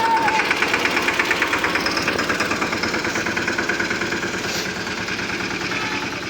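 A large tractor's diesel engine idles with a steady rapid knocking rhythm, loud and close, running evenly throughout.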